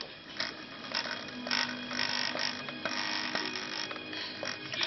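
A 60-year-old lace-making machine runs quietly, giving a soft steady mechanical whir with faint ticks and creaks repeating throughout, against low background noise.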